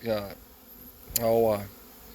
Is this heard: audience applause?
no